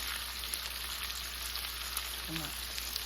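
A pork shoulder roast sears in a hot pan on the stove, giving a steady, close sizzle and frying hiss with no breaks throughout.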